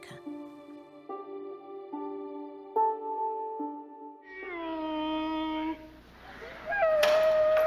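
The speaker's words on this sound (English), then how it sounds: "Meow." A cat meows in a series of drawn-out, tonal calls that rise and fall. It is fairly close and clear, and each call ends in a longer, louder wail.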